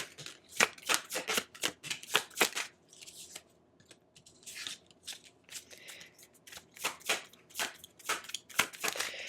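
Tarot cards are shuffled by hand in quick, crisp riffles and slaps, close and fairly quiet, with a brief pause midway before the shuffling resumes.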